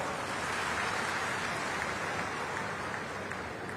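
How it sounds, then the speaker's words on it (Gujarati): Audience applause during a Gujarati political speech event, a dense steady patter of many hands clapping at moderate distance, continuous and even throughout without breaks. "તાળીઓ તો પાડો"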